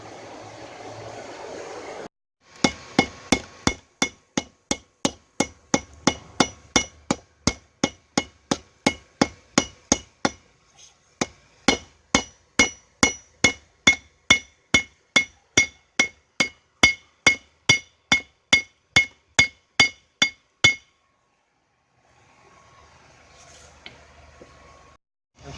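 A hammer strikes a hot blade at a forge, shaping the handle and beveling the edge; sharp ringing metal blows land in a steady rhythm, close and loud, with a brief pause midway.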